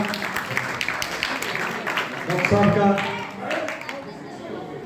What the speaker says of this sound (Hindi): जोरदार तालियों के साथ अभिनंदन, स्वागत करिएगा।